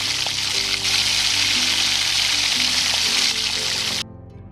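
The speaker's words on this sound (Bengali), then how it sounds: "তেল ভালো মতো গরম হয়ে এলে এতে ম্যারিনেট করা চিকেনটা দিয়ে দেবো।" Marinated chicken sizzles and crackles loudly in hot oil in a wok, steady and close, then the frying noise drops away abruptly near the end.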